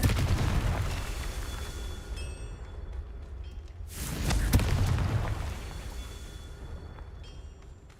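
Explosive Confringo spell blasts in Hogwarts Legacy, a deep boom bursting out around the middle over a rumbling game soundscape, loud and close with a trailing roar.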